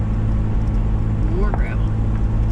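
Vehicle rolling over a rough road of big chunky gravel, with a steady low rumble of tires and engine throughout and a brief whistling squeak midway.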